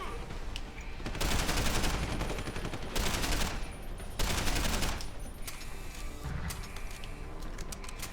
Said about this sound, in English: this assault rifle has like all the upgrades you could give it